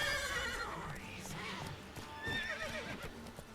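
Roach, Geralt's horse in the video game Witcher 3, whinnies over a steady run of clip-clopping hooves, near and fairly loud, with a brief voice in the background.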